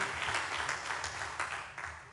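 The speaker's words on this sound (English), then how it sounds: "a round of applause" An audience at a business summit gives a round of applause, dense steady clapping heard somewhat distantly and fairly faint, fading slightly toward the end.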